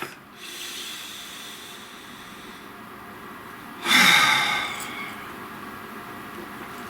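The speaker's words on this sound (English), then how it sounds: "So let's take a nice deep breath." One deep breath drawn in a quiet room, a short breathy rush swelling for about a second in the middle and fading into soft room hiss, with no talking.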